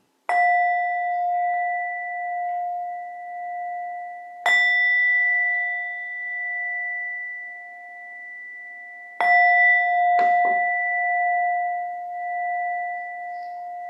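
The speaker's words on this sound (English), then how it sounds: "Here comes the bell." Meditation bell struck three times at slow intervals, with a quick fourth tap just after the third, each strike a clear ringing tone that sustains and slowly fades in a quiet room.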